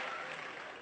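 Brief, faint applause from an audience, a steady wash of clapping that tapers slightly over less than a second.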